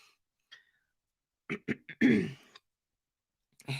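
A person clears their throat and coughs in a few short, sharp bursts: one small sound, then a quick cluster of three, and a louder, longer rasping cough, with near silence between and another bark at the end.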